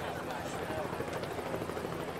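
Television news helicopters hover over the Las Vegas Strip, a steady whirring rotor drone that fills the air continuously, loud and close overhead.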